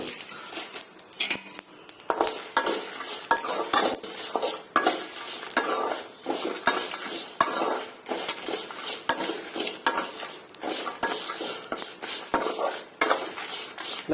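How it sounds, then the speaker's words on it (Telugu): White sesame seeds fry and crackle in a hot pan for a stuffed brinjal curry masala. A metal spoon stirs and scrapes steadily under a continuous close sizzle, with no talking. "ఫైనల్గా మనం తెల్ల నువ్వులు యాడ్ చేసుకుందామండి. ఇవి చిటపట్లాడే వరకు వండించుకుంటే చాలు."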